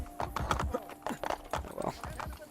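Horse hooves clip-clop in the video game Assassin's Creed Brotherhood, a quick rhythmic run of hoof strikes, moderately close, with brief pauses between clusters of steps.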